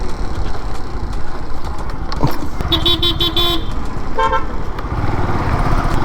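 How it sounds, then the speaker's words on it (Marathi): A car eases slowly down a slope on a narrow forest road near Kasheli, Ratnagiri, in the evening, with a steady engine and road rumble throughout and a few short horn toots midway. "गाडी जरा हळू घेऊन जावी लागेल."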